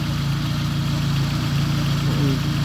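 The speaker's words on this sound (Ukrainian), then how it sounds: "воно і так видно і чуть, що моторчик робить класно" A car engine idles steadily close by, a constant low rumble with an even throb that holds without change throughout, with no talk over it.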